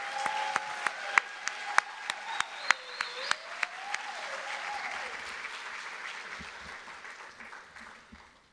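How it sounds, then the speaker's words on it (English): Audience applause fills an awards celebration at Sierra College Foundation, steady dense clapping with a few sharp louder claps standing out early, then slowly thinning and fading toward the end. "Give yourselves a big round of applause."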